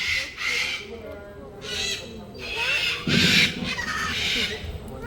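Harsh, raspy yellow-crested cockatoo squawks repeat in loud bursts, several calls in a row, close by with faint background noise, at a zoo in Batu, East Java.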